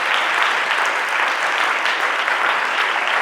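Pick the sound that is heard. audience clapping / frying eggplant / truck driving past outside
audience clapping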